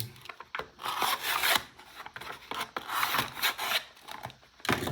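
Close, scratchy rasping and rubbing strokes repeat in an uneven rhythm, like a blade sawing through plastic or cardboard packaging.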